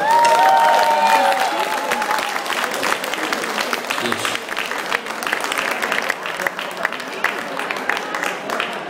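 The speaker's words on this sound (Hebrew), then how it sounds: "איפה כפיים לאבא של הכלה?" Applause and cheering from a wedding crowd, clapping for the bride's father, a dense steady wash of many hands that holds loud throughout, with a voice over it at the start.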